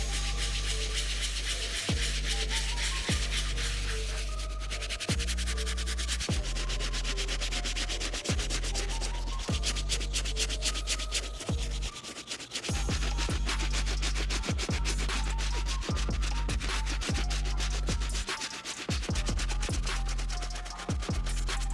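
Soft bristle brush scrubbing an Air Jordan 11 sneaker: repeated rhythmic scratchy strokes, close and fairly loud, continuing with brief pauses between passes.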